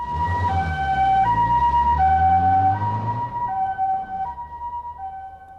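An ambulance siren sounds in the winter-era days of coal-briquette heating, wailing in a steady two-tone hi-lo pattern over a rumbling engine, loud and near at first, then fading slightly as the vehicle moves away.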